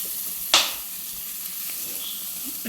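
Chopped chicken sizzles in a pan with a steady, hissing fry and a sharp clatter of stirring near the start, close and moderately loud with no talking.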